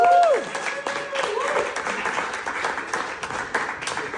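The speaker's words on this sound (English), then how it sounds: "Keep it going for Lucinda, guys." Audience applause fills the room at the close of a comedy show, a steady wash of clapping that starts right after a brief tonal flourish and holds loud throughout, with a voice cutting in over the crowd.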